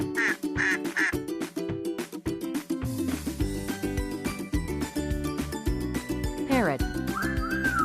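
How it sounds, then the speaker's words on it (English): A duck quacks in short repeated bursts over a bouncy children's music track, with a voice also speaking. "Duck."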